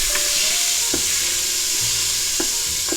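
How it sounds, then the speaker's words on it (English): Butter sizzles steadily in a hot Instant Pot as the pot is deglazed after browning pot roast, with a bright continuous hiss and a few scrapes and clicks of stirring. "now you want to add some butter and start to deglaze this pot"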